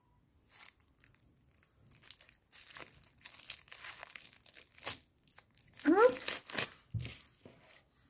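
Juice carton with a straw attached at the back being opened, scattered crinkles and tearing of the plastic straw wrapper, close and quiet, in short bursts with a louder rip near the end, amid soft speech.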